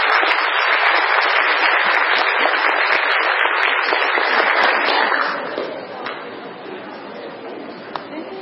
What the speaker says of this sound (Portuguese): Vamos aplaudir o professor?